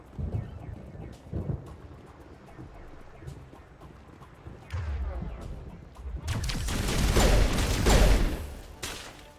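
Gunfire during the Virmire assault in the Mass Effect video game, with scattered distant shots giving way to a louder, dense burst of rapid firing near the end.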